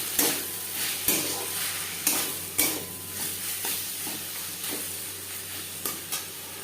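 Eggplant frying with turmeric and salt for a Katla fish roe chorchori sizzles steadily in a pan, while a utensil stirs and scrapes at regular intervals of about one second.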